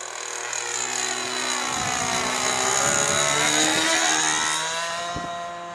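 A helicopter flies nearby, its rotor and engine making a loud, sustained drone whose pitch slides up and down as it passes, with a few low thumps underneath.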